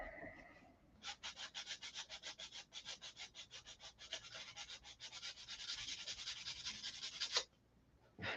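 A Sig Magnum model is sanded by hand in rapid, rhythmic back-and-forth strokes, close and fairly faint, running for several seconds before stopping abruptly.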